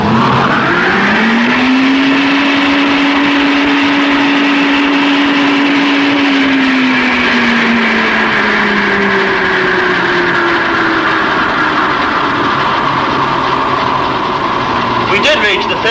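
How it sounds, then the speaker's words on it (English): A wind tunnel blower spins up with a rising whine that holds steady, then slowly drops in pitch, a loud continuous mechanical hum with a fainter second tone under it. "when we start the blower, we should expect the same speed as before"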